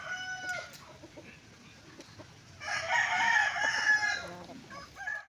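Asil-cross chickens on a farm, a Maklin-hatch hen among them: a rooster crows loudly for a second or two in the middle, with scattered soft clucks before and after and no talking.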